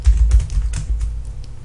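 Rapid clicking of keys on a computer keyboard as text is typed into a spreadsheet shape, a quick run of typing strokes with low background hum, no talking.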